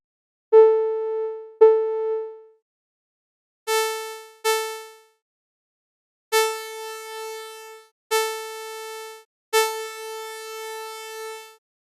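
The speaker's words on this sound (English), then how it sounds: "adding up a harmonic spectrum of sine waves, weighted according to the brightness" Synthesized harmonic tones built from summed sine waves sound one at a time in a timbre program, seven clean sustained notes at the same pitch that change in brightness and decay with silence between them.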